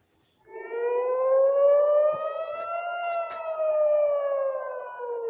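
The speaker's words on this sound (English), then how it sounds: "The sound of sirens pierced the night sky" A single air raid siren wails steadily at night, its pitch slowly rising then falling, loud and sustained over a quiet background.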